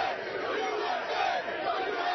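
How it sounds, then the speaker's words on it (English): A crowd of about 250 anti-Islam protesters outside a mosque in Phoenix, Arizona, chants loudly and continuously in a dense mass of shouting voices, slightly muffled and broadcast-like. "Emotions ran high as the crowd chanted anti-Islam slogans"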